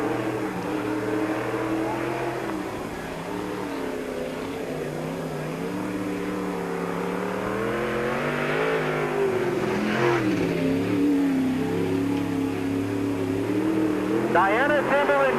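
A stock race car at Peoria Speedway runs a qualifying lap, its engine droning and shifting pitch as it circles the oval, with a track announcer talking over it throughout.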